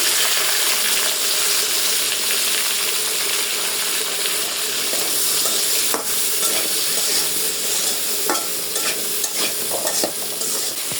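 Flat beans and potatoes frying in oil in a home kitchen pan, a steady close sizzle with occasional stirring clicks and scrapes throughout, no talking.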